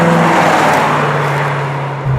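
A Qvale Mangusta sports car with a Ford Mustang V8 revs loud and close, holding a steady drone before the pitch shifts briefly near the end.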